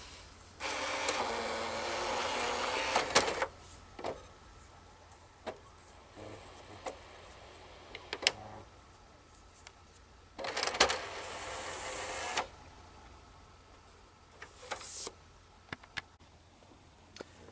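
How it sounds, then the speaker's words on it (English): PlayStation 3 disc drive loading mechanism, heard alone with no voices: a sustained motorized whir for a few seconds, then sparse clicks and ticks, followed by another short whirring burst and a last brief whine. "here's my brother's PlayStation 3 and the loading mechanism."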